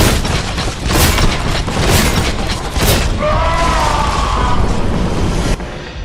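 Shotgun blasts in the retro shooter Warhammer 40K: Boltgun during horde mode, several loud booming shots spaced about a second apart, followed by a ringing mechanical tail and continuous in-game din.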